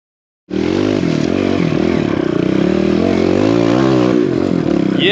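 A dirt bike engine drones loudly and steadily while riding down a riverbed, its revs rising and falling with a rough, close-up buzz after a brief silent start.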